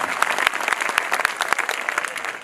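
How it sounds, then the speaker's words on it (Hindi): An audience at a poetry recitation claps in a dense, steady burst of applause that stays close and lively throughout, with no pause. "मैं चाहता हूं एक बार ताली बजा करके मुझे माहौल दें"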